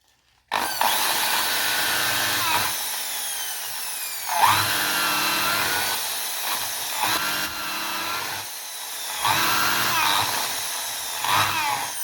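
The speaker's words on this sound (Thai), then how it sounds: "ทำการ เจาะอีกด้านหนึ่งนะครับก็ให้ตรงในตำแหน่งของไม้ที่ได้ฝังไว้เช่นกันนะครับ" A power drill bores through a wooden window frame into embedded wood blocks, whirring loudly and steadily in several long bursts with brief pauses and changes in pitch as the bit bites and runs free.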